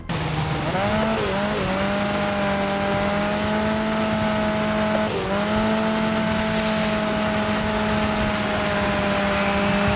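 An off-road race car in the video game Dirt 5 drones loudly and steadily, its engine pitch climbing early on and dipping briefly at a gear shift midway before holding high again.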